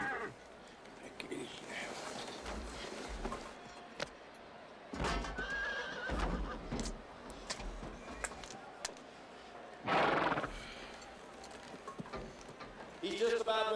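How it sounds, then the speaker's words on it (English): A bucking horse at a rodeo neighs and whinnies several times, with hoof clops and a busy arena crowd, under an announcer's voice. "Lone Star is the name of the bucking horse."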